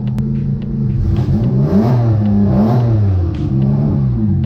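A track-day car's engine revs loudly and close by, rising and falling in pitch over several seconds, with no talking.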